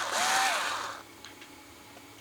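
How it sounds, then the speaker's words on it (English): A small power drill runs a 1.6mm bit through a 2mm screw hole, one short whirring burst lasting about a second, then near-silence with faint handling clicks. "I'm gonna now just run my drill bit into there to make sure I've got a nice clear hole"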